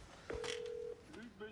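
A single held telephone tone, like a dial or keypad beep, sounds briefly and clearly before a voice begins speaking over faint background.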